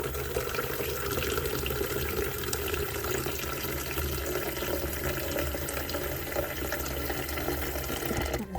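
Tap water pours steadily into a pitcher, a continuous close, even rushing splash that runs unbroken with no voices over it.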